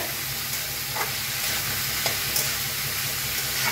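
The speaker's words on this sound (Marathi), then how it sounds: "कोबीज आता मिक्स करून 1 मिनिटभर भाजूया तेलात" Shredded cabbage is stirred and sautéed in hot oil in a pan for a cabbage vegetable dish, giving a steady close sizzle with light scraping strokes throughout and no talking.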